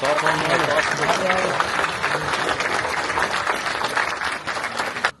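An audience at a film screening and question session claps for a guest taking the stage, a dense, steady wash of applause from many hands that holds for several seconds and then drops away abruptly, with a voice faintly audible at the start.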